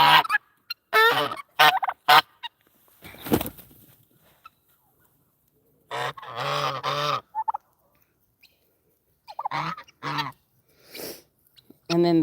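Ducks and geese on a homestead honking and quacking in loud, close bursts separated by quiet gaps, including a mother duck and males, with no talking.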